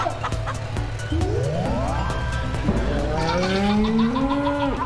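Clucking chicken calls rise in pitch in That Dragon, Cancer, mixed with racing-car engine sweeps and tire squeals over a rhythmic game soundtrack, several calls overlapping near the end.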